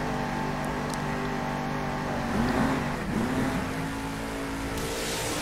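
Grave Digger monster truck engine in Monster Jam Steel Titans 2 revs loudly and steadily, with a rising, swelling roar midway that dips and settles back to a sustained drone, no talk over it.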